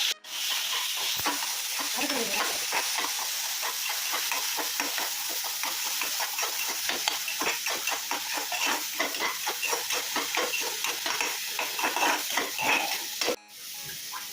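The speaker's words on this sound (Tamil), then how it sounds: "வெங்காயம் நல்லா வதங்கிடுச்சு." Small onion paste sautéing in sesame oil while a spoon stirs and scrapes the pan, a continuous bright sizzle with rapid repeated scraping strokes, close and steady, no talking.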